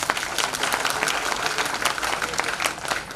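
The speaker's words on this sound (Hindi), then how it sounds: "अभी तो ताली बजा रहे हैं।" Audience at a national convention of the Ekal Arogya health project breaking into sustained applause, a dense steady patter of many hands clapping throughout, fairly close and full.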